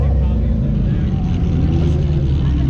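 Loud, steady engine roar from a modified Corvette fills the clip close by, a deep continuous drone with little variation.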